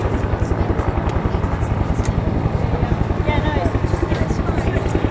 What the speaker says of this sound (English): UH-1 and the Hughes OH-6 about to lift to go off and hold